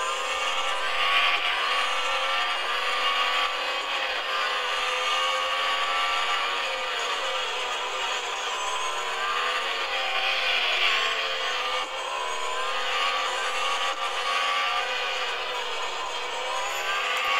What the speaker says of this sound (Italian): Adesso proviamo ad aprire il classico gioco di auto, il solito giochino